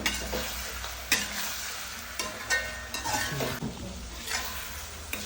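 Tomatoes and crushed chili sautéing in a pan, with a steady close sizzle and frying crackle under repeated scraping stirs and occasional clinks of a spoon against the metal.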